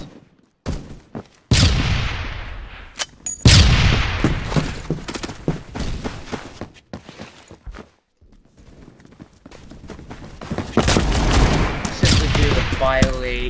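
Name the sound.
Honey Badger rifle firing in a video game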